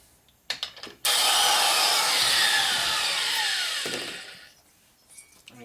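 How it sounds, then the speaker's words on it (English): A handheld grinder works on a cylinder head part from a 1200 Harley-Davidson Sportster XL. After a few short clicks, it gives one loud, sustained, harsh high-pitched grind for about three seconds, then winds down. "You take it and grind it with a grinder"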